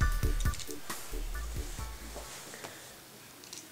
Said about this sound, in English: Take my scissors and go all the way.